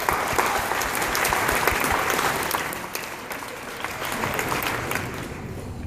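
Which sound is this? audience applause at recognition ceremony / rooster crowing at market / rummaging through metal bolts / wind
audience applause at recognition ceremony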